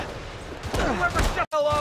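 Rocket fire and explosions in the Spider-Man Remastered video game, a loud burst of blasts packed into under two seconds, with game voices mixed in.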